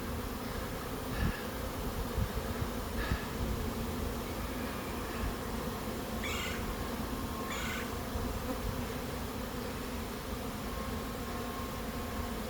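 A swarm of bees mills at the entrances of beehives set in a tree, a dense continuous buzz with a few faint taps and clicks behind it.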